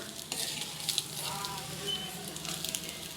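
Egg fried rice is stirred and tossed with masala in a hot pan, giving a steady close sizzle with light scraping and clinking from the spoon. There is no talking.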